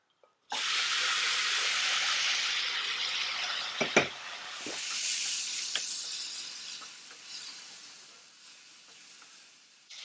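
Mutton drops into hot masala in a pan and bursts into loud, continuous sizzling and hissing, with a few sharp clatters of a utensil as it settles, then gradually softens.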